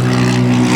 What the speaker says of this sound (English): turn it on and push the button and the engines light up.